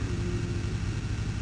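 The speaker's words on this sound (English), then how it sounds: "that bus noise, the... Listen to that." Steady low engine rumble of a bus in a video game, a continuous droning hum with a faint higher whine running throughout at a constant level.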